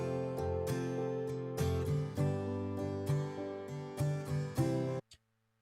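Acoustic guitar chord pad pattern played back in Cubase, rhythmic strummed chords changing every beat or so for about five seconds, then stopping abruptly, alone with no talk.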